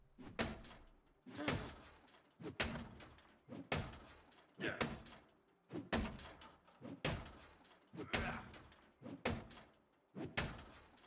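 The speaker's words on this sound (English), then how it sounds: "we're gonna also smash in this door here" Repeated heavy axe blows batter a door in a video game, roughly ten sharp loud thuds and cracks at a steady rhythm about one per second, each with a brief crunchy decay.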